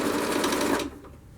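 A sewing machine stitching fabric for a hard valance board, with a steady rapid mechanical whir that runs loud and close for most of the moment, then stops abruptly, leaving quiet room tone.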